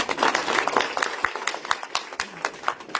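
Scattered applause from a seated audience at a religious gathering, a brisk burst of clapping that thins out into a few sparse, uneven claps.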